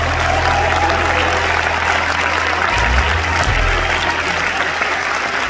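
Sustained applause from a festival audience at Deauville greeting Cannes delegate Thierry Frémaux, a dense steady wash of clapping throughout with a low rumble beneath.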